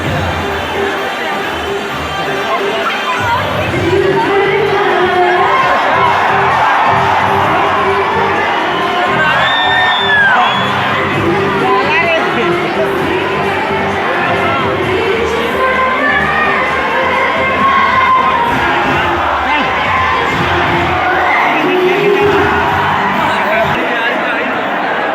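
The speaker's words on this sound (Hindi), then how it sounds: "दोस्तों देख सकते हैं बहुत ज़्यादा भीड़ है" A large, dense crowd cheers and shouts nonstop at the Ambedkar Nagar festival, where Pawan Singh appears. The roar is loud and close, with whoops, children's shouts and babble running through it.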